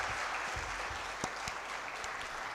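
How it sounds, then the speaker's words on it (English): An audience at an academic event gives a warm round of applause, a steady dense clapping heard throughout with a few sharper individual claps standing out. "So please join me in giving them a very warm round of applause."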